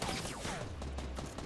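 Gunfire from the video game Fortnite crackles in a dense, continuous barrage, distant-sounding and quiet under a wash of broadband game noise.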